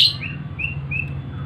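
Three short, thin chirps from a young oriental magpie-robin fledgling, close and clear, spaced evenly over a low steady background hum.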